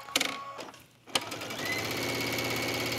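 A sewing machine top stitching along a garment placket gives a couple of sharp clicks, a brief pause, then a steady close whirring run of stitches.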